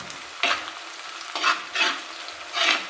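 Shallots, crushed ginger and garlic and slit green chillies sizzle in hot oil, with four distinct bursts of stirring over a constant frying hiss.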